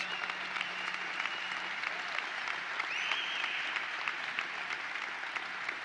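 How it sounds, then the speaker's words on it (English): Steady applause from a crowd at a State Fair opening, dense clapping sustained throughout at a moderate level with no talking over it. "Let's give them a round of applause."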